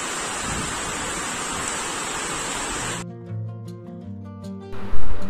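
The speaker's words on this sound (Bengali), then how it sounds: "দেখো কত জোরে বৃষ্টি পড়ছে।" Heavy all-day rain pours down in a steady, dense broadband roar for about three seconds, then cuts off abruptly as music takes over.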